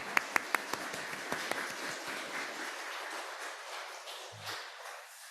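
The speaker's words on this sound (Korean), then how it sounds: "우리 환영의 박수를 드리겠습니다" A church congregation at a Sunday service in Darmstadt gives welcoming applause, a few sharp claps at first, then a soft wash of clapping that fades away, heard faintly and at a distance.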